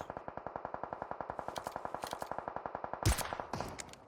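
Gunfire in the PUBG Mobile video game: a long, rapid automatic burst of evenly spaced shots, followed by a few louder, sharper single shots at the end.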